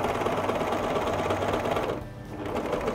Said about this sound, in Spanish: Acá tengo un jean. Voy a seguir en la misma línea para que vean que no tengo que hacer ningún ajuste de tensión.